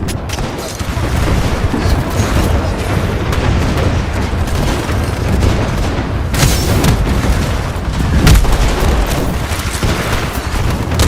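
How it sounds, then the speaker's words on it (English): Grenade explosions in the shooter game Titanfall 2, a run of heavy booms and bursts that come in quick succession, loud and close, some sharper blasts standing out over a continuous rumble of combat. "I just walked up to them and stuck two of them in the back with grenades"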